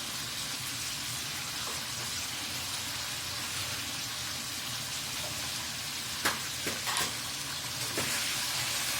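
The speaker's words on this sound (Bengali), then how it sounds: "আলুটা তেলের মধ্যে ভেজে নিচ্ছি" Potatoes fry in oil with salt and garlic paste, a dense, even hiss that runs throughout like steady rain, with a few light clicks of a utensil near the end.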